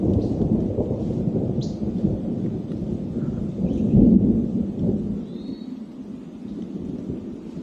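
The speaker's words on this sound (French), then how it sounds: "Oh, entendez-vous le tonnerre?" Low thunder rolls and rumbles through a maple hardwood forest in Montcalm, a broad, distant swell that peaks and then fades, with no voices over it.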